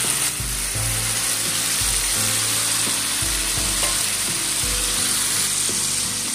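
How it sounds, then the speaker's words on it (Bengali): Fish fat fries loudly in hot oil with panch phoron five-spice for a fig teljhal curry: a dense, continuous close sizzle with a low rhythmic thumping underneath, no voices. "তো মাছের তেলটা আমি প্রথমে ভেজে নেব তেলের সঙ্গে।"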